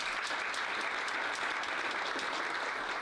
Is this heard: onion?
no